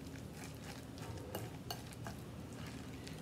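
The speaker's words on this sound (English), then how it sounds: "Mix that all together." Oat cluster mixture being stirred in a bowl, a steady scraping and clicking of a utensil against the bowl with a few sharper knocks, close and alone.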